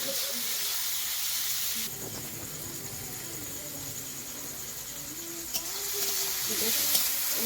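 Tomato and ginger frying in a pan, a steady sizzling hiss that rises sharply after about two seconds and carries on evenly, with faint stirring clinks near the end.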